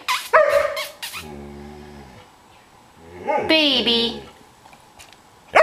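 Dogs bark and whimper indoors in several sharp, loud yaps and a drawn-out whining howl, while someone talks between and over them.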